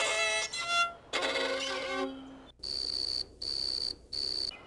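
A grasshopper stridulates, rubbing its leg against a wing, giving three short, bright, buzzing chirps of even length. These follow a few harmonic, bowed-string-like notes that imitate the insect.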